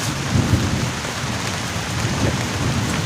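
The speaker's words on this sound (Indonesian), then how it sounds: "Sekarang tuh udah turun hujan" Heavy rain pours steadily on a tent at a campsite during a thunderstorm, with low rumbling thunder beneath the constant close hiss of rain and no voices.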